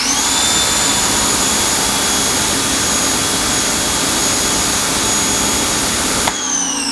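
A Ryobi 1800 psi electric pressure washer fitted with a 2.5 orifice runs with a loud, steady, whining roar and a high motor tone. It cuts off sharply near the end.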